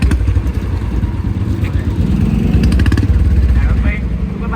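A Bullet motorcycle engine runs close by with a steady low rumble throughout, under constant chatter and voices at a birthday outing.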